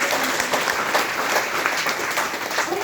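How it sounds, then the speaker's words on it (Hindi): Loud audience applause fills a packed hall at an RCM network-marketing gathering, dense steady clapping with no gaps throughout, close and sustained. "एक बार जोरदार तालियां।"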